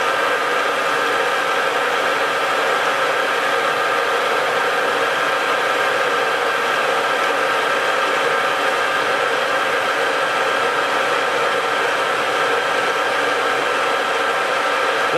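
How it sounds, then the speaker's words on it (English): A metal lathe runs steadily, producing a loud, constant whirring hum with a broad noisy hiss and a few tonal lines, unchanging throughout with no voices. "So we'll just start the lathe and I'll try and show you what we found."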